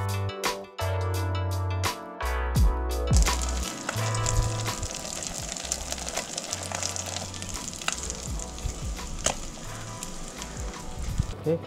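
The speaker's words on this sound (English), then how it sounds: "frying up some garlic chips here" Steady crackling sizzle of garlic frying in a hot pan, continuous and close, with occasional sharper pops and faint clinks.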